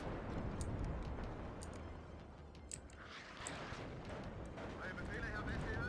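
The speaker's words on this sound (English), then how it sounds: "Notice that counter battery got one of my guns." Counter-battery artillery fire in the Cold War strategy game WARNO, a dense rumbling barrage with scattered sharp reports over several seconds, with a voice talking underneath.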